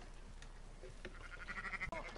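A single sheep bleats briefly in a video game (Red Dead Redemption II) over a quiet background hum, a short wavering cry near the end.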